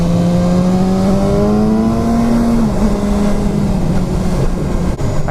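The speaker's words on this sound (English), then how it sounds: "If that's a stock exhaust, it sounds pretty awesome." A 2016 BMW S1000R motorcycle engine and exhaust on a test ride, a loud steady drone that rises slightly in pitch then holds, with constant wind rush throughout and no talking.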